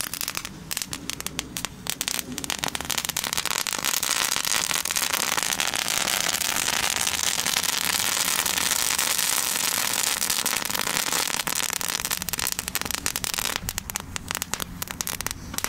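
Crackling fireworks bought at a Spar supermarket go off in a long, dense burst of sputtering, snapping crackles that swells and holds loud throughout before thinning out.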